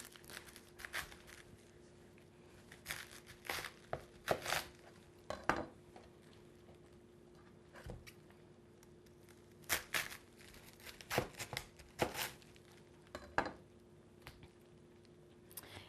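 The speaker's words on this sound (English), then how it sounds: "So I've got the cabbage, and I'm just going to cut a little bit of it because I don't want the whole thing." A knife cuts fresh cabbage leaves in quiet, crisp crunches and snaps, grouped into short irregular bursts with pauses between them, close by and without talk.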